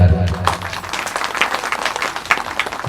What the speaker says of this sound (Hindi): बजाइए ताली जोरदार।